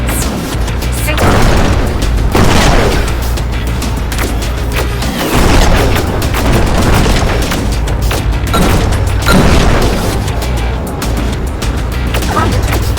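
Missile explosions in the video game Rogue Flight boom and crash repeatedly, loud heavy bursts arriving every second or two over a constant rumbling engine drone.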